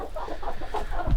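A rooster clucks in a chicken coop in winter, giving short, close, repeated low clucks through the clip, ending in a brief thump. No one speaks.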